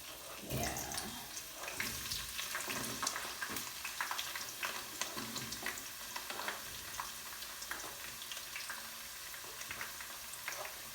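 Onions going into hot oil in a sufuria cooking pot, a steady broadband sizzle with scattered crackles and pops running throughout, fairly close and continuous with no talking.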